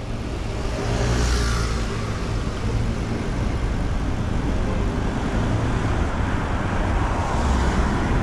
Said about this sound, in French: Est-ce bien sérieux d'arriver pleine balle là avec ton SUV?